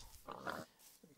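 A pig in a video game gives a short, low grunting oink, a single brief call heard faintly and up close against quiet game background.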